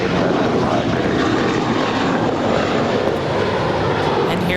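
A JetBlue airliner departs Los Angeles International Airport, bound for Miami, with a loud, steady broadband engine roar filling the whole stretch and no break in the noise.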